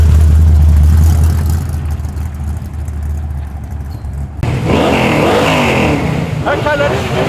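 A modified Ford XB GT muscle car at the Coota 400 airstrip drags in Cootamundra, its engine droning loudly and steadily up close before a shift in tone into revving, with a crowd and voices chattering underneath.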